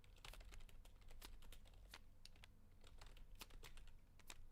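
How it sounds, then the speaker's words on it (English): Fingers typing on a computer keyboard, a quick irregular run of sharp, close key clicks with short pauses, fairly quiet and alone. "I'll actually type to him"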